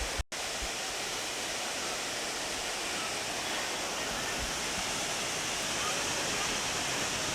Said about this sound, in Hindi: तो ये है अब रंबोड़ा वाटरफॉल्स फाइनली।